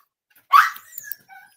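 A puppy gives a single sharp, close bark followed by a brief trailing yip, with silence on either side.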